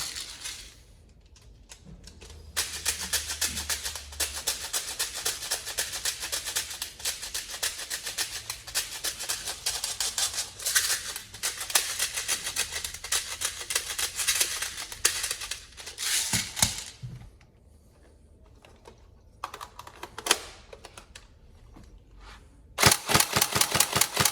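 Tokyo Marui SCAR-H NGRS airsoft gun test firing on full auto: long, fast mechanical rattling bursts with a steady cyclic clatter, several sustained strings separated by pauses and a final sharp burst.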